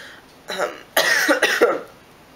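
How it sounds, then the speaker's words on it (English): A couple of harsh, close coughs in quick succession, the second burst longer and raspier, with quiet room tone around them. "Cough is killing me."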